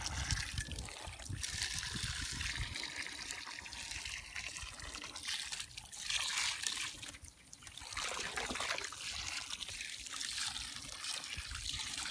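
Water poured into a concrete mix, a steady trickling, splashing flow that runs close and fairly even for about twelve seconds, with no voices over it.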